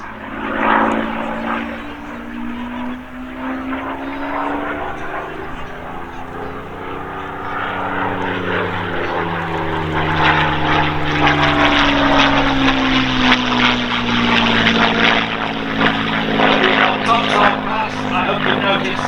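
A Spitfire Mark 16 with a Rolls-Royce Merlin 66 engine flies at an airshow at Old Buckenham, its loud propeller drone shifting in pitch as it passes, with a voice talking over it.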